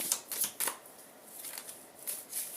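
Playing cards shuffled by hand in several quick riffling bursts, close and crisp, with short pauses between them and no talking.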